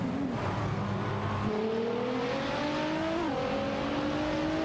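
GT3 race cars in a racing video game, an Audi R8 LMS Ultra and a Toyota GT86, give a continuous engine whine that rises steadily through the gears, with overlapping motors droning together under a dense, constant roar.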